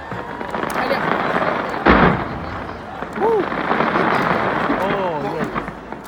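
New Year's Eve fireworks for 2018 going off, with one loud deep boom and a continuous crackling rumble of bursts, while people talk and exclaim nearby.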